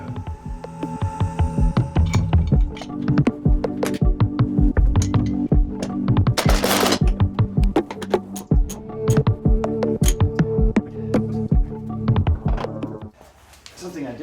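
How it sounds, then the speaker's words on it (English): An impact driver whirs and hammers in rapid bursts, driving a self-tapping screw during a 2-inch spacer lift on a WJ to clear 31-inch tires. The loud, steady chattering runs nearly throughout, then drops off near the end. "I'm going to start it with the impact"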